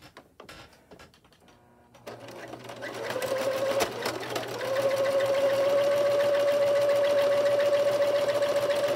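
After a few seconds of light clicks and handling, a sewing machine stitches a seam on an 18-inch doll dress, its close motor hum ramping up and then holding steady to the end.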